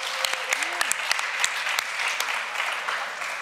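An audience gives sign language interpreters a warm, sustained round of applause, with dense steady clapping and brief voices calling out over it.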